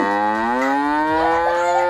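A cartoon cow lets out one long, loud, drawn-out moo with a rising, harmonic tone, heard up close and alone.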